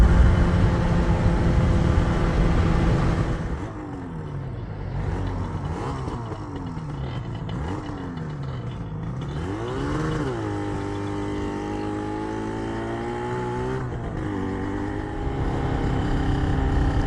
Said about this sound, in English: Kate obviously gave it some revs pulling away there